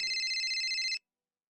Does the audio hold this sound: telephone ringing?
yes